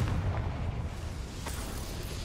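Confringo blasting spell exploding in Hogwarts Legacy, a booming burst that rolls into a sustained rumble, with a sharper crack midway, fairly loud and alone without talk.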